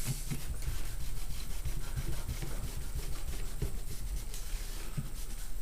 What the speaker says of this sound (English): very light coat, and I'm just quickly going to go over this. Rub it in.